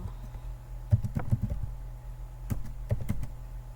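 Computer keyboard typing in short bursts of clicks, near and moderately loud, with brief pauses between runs of keystrokes while entering form validation code.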